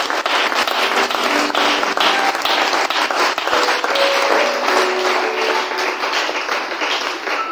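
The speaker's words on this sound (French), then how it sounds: "de donner à l'Éternel une ovation d'acclamation." A church congregation at a thanksgiving service gives a sustained, loud ovation, with dense clapping that holds steady throughout and faint tonal sounds woven through it.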